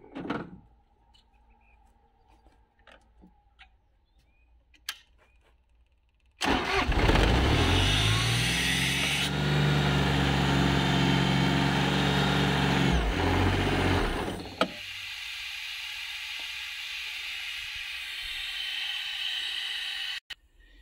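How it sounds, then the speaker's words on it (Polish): Mobile screw compressor on a wheeled chassis, driven by a Kubota diesel engine, starts up after quiet clicks and runs loudly for several seconds with a steady engine drone, then drops back to a faint idle-like hum. "jest to kompresor napędzany silnikiem spalinowym dieselka, silnik Kuboty. Kompresor śrubowy na podwoziu mobilny."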